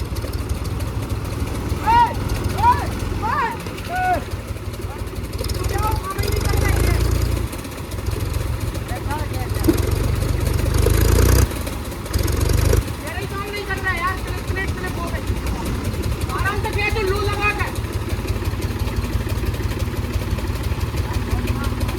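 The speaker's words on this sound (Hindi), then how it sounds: "चालू हो चुका है ट्रैक्टर, ये जा रहा है ऊपर की तरफ।" A tractor engine runs and labours uphill, its low throbbing drone steady and loud, with a suspected clutch plate or gear fault; someone talks over it in bursts.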